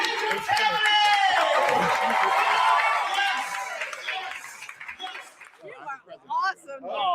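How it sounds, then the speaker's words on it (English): Audience applause and cheering at a live comedy show, a loud dense wash of clapping and whoops from a crowd that fades into scattered claps and voices near the end. "So give them a big old round of applause."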